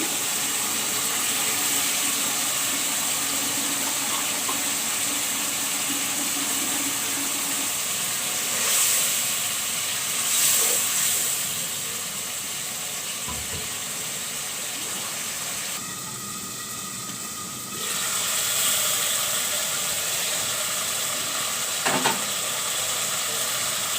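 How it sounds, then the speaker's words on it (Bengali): Shrimp fry in a pan for a Bengali dish with Malabar spinach, giving a steady close sizzle with occasional stirring scrapes and clinks, and a brief louder hiss midway. "এখন চিংড়ি মাছ দিয়ে দেব"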